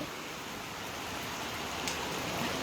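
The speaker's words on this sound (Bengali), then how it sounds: "প্রচণ্ড বৃষ্টি হচ্ছে এবং যেমন বৃষ্টি তেমন বাতাস।" Heavy rain with wind pours down in Dhaka as a dense, steady, even hiss of drops on surfaces, constant throughout with no voices.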